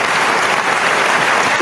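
A studio audience clapping for guest Ricky Potts on a soul line dance talk show, a dense and loud burst of applause that holds steady throughout the short moment.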